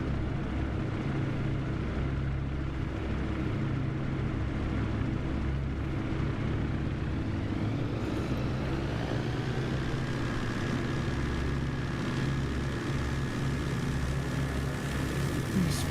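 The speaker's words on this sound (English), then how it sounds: "pulls it up and 3-point takeoff. Off he goes." Propeller airplane making a three-point short takeoff in Microsoft Flight Simulator during an eSTOL competition: a steady, loud engine drone with a rising tone that holds throughout, no talking.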